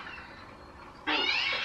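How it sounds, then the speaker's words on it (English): A cat gives a single short meow close by, sounding after a second of quiet room tone in a horror drama scene. "Aw, little kitty."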